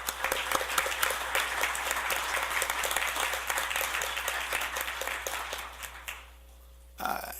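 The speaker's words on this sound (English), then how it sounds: "our police department, round of applause" Audience applause for a local police department at a city council meeting: a dense, steady wash of clapping that fades out near the end, then a brief burst of sound returns.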